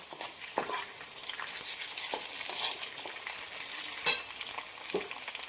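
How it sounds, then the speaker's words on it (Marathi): Ginger-garlic paste fries with golden onions in a pan, giving a steady soft sizzle with occasional scraping stirs and small spits, close and moderately loud with no talking. "आता आपण यामध्ये आल्याची लसणाची पेस्ट घालून घेऊया ती पण छान परतून घेऊया"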